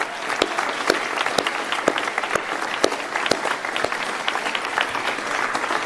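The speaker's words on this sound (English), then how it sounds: "Give yourselves a round of applause." Room-filling applause from an audience at a government funding announcement for athletes and sport infrastructure, dense clapping with distinct sharp claps popping out near the front, steady and fairly loud throughout.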